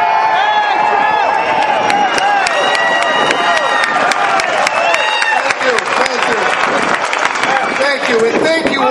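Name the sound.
audience applause and cheering at a political rally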